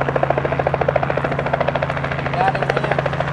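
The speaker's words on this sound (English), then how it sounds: "See? The helicopter's right behind me." A Robinson R44 helicopter flies nearby, its rotor thumping in a steady rapid pulse with an engine drone; a voice speaks briefly over it.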